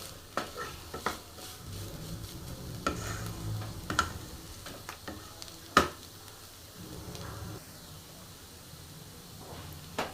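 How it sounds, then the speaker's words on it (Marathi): Green bean stir-fry tossed and mixed in a pan, with intermittent spatula clanks and scrapes over a soft background sizzle, close by and with no voices. "फक्त 2 मिनटं मी मिक्स करून घेणार आहे."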